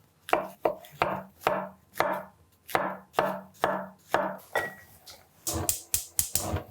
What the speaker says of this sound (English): I'm gonna take these mushrooms and I'm gonna slice them up pretty thinly